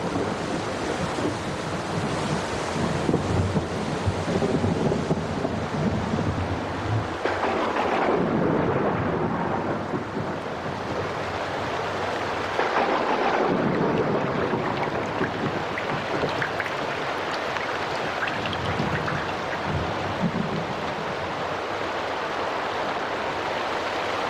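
Stormy weather over the Luangwa Valley in Zambia brings a steady, broad roar of wind and rain that continues throughout, with low rumbling swells that may be distant thunder.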